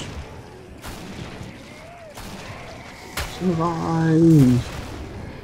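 Shotgun blasts in the video game Killing Floor: about four sharp, booming shots spaced a second or so apart, with a drawn-out tonal game sound near the end and speech over the top.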